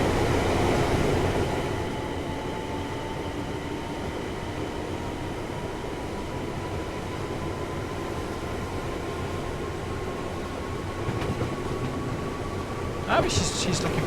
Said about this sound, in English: I said we'll hear the motor noises, and the Pendolino kind of drowned us out a little bit.